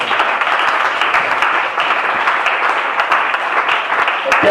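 A church congregation applauds the Lord with a loud, sustained burst of clapping that fills the room evenly for several seconds, with voices faintly mixed in.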